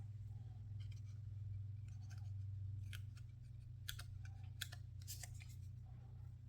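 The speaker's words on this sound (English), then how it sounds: "Need to trim that down with my scissor" Scissors trimming paper for a handmade autumn card, a string of short crisp snips that come faster toward the end, faint over a low steady hum, with no voices.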